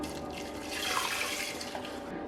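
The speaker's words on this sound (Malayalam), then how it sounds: "ഇനിയും വെള്ളം ആഡ് ചെയ്ത് കൊടുക്കുകയാണ്." Water pours steadily into a cooking pot for a home-cooked dish, a soft, continuous splash lasting a couple of seconds with no voices.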